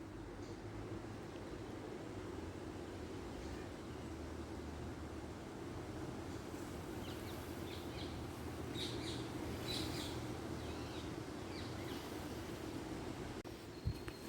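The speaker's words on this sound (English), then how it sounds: "Plenty of birds." Birds chirp and sing faintly in the distance along a green, tree-lined path near a nature reserve at Abbey Wood, over a steady low outdoor hum.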